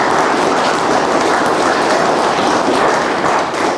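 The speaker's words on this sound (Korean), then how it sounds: "아, 이럴 땐 박수라도 좀 치고 해야지." An audience at a Buddhist Dharma talk claps steadily and loudly, with dense even applause and no talking over it.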